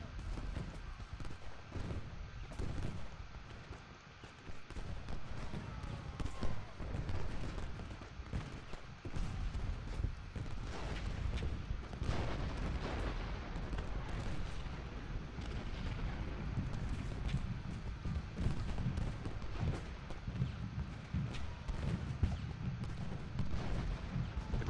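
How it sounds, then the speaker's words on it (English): Musket volleys from the Civil War strategy game Ultimate General Gettysburg: a steady, distant crackle and rumble of massed rifle fire with low booms, continuous throughout, under faint background noise and no clear talk. "I want to divert some of this musket fire"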